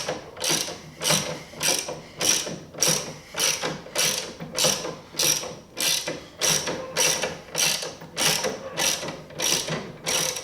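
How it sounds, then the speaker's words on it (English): A wrench ratchets a motorcycle dolly's jack to lift a cruiser bike, giving steady repeated clicking strokes about once a second, close and clear with no talk. "It's not so bad with the wrench, but it is going to take a little bit longer because you got to get the bike relatively high."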